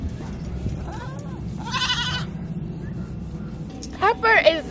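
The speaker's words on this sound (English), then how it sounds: "look at the baby goat" A baby goat bleats in short wavering cries on a farm, twice with a pause between, amid rustling and a nearby person talking.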